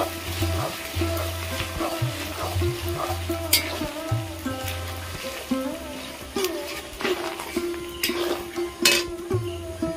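Grated coconut frying in a pan with dry red chilli and bay leaf tempering, a steady sizzle with stirring scrapes and clinks of a utensil against the pan, while someone talks intermittently over it in a home kitchen.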